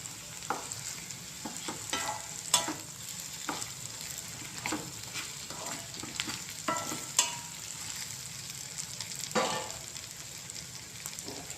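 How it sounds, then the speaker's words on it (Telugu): Bitter gourd slices fry in a pan, giving a steady soft sizzle broken by frequent scraping and stirring clatters, close and alone without any voices. "ఇంకా బాగా ఫ్రై అయిపోవాలి ఇవన్నీ"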